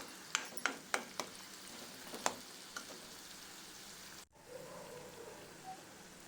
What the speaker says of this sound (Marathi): कांद्याला सुद्धा तेलावर चांगले परतून घ्या.